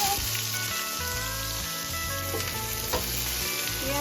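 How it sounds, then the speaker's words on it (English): Spices sautéing in a pan give a steady, soft sizzle and crackle that runs unbroken for several seconds, close by, with no voices. "We are just gonna saute spices."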